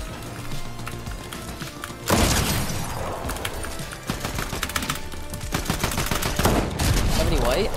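Rapid SMG gunfire from a video game rattles in close, loud bursts, kicking in sharply after a quieter opening and continuing with crashes and impacts, while faint speech sits underneath.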